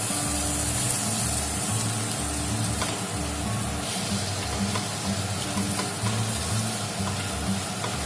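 Salted tomatoes frying and being stirred in a pan for fish-head muri ghonto, producing a continuous close hiss of sizzling with faint scraping underneath.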